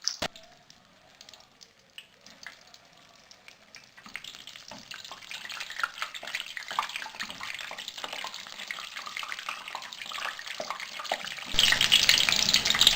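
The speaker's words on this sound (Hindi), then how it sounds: "तेल गर्म हो चुका है, अब इसके अंदर मैं ये सारे कबाब डालूँगी।" Kebabs dropped into hot oil to fry, quiet at first, then a steady crackling sizzle that grows denser and louder, jumping to a fierce spitting hiss near the end.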